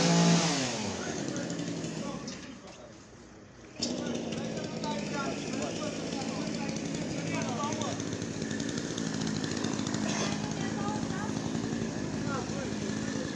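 A chainsaw drones loudly and continuously outdoors in Sibiu, Romania, its engine revving with a brief dip in the middle, while someone shouts over it in Romanian.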